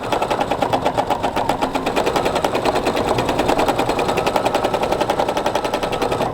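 A sewing machine runs fast and continuously during free-motion quilting, making a loud, rapid needle chatter with an even, machine-gun-like rhythm from start to finish.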